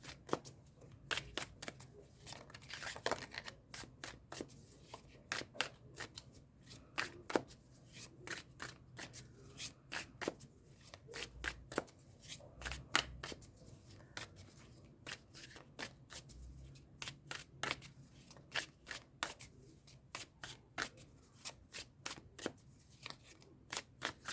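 Tarot cards, some sticking together, are shuffled steadily for a long stretch, with crisp rapid riffling bursts and soft flicks at close range against quiet room noise.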